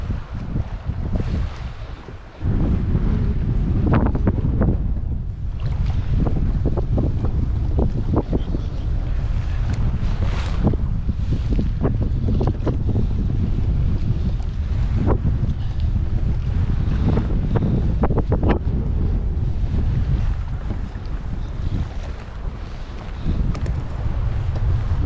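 Wind roars steadily across a kayak out on one of the Finger Lakes during a fishing trip, loud continuous buffeting on the microphone with water splashing against the hull throughout.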